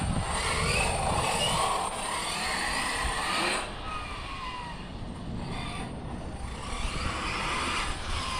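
MCD R-Snake large-scale RC car on a 16S CNHL 5300mAh battery with 26/64 gearing, roaring hard under full throttle at speed, a steady broadband motor-and-wind rush that stays loud and continuous throughout.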